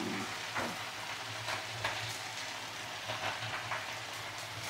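Small flour-coated fish, similar to sardines, fry in hot oil with a continuous crackling sizzle and occasional sharper pops.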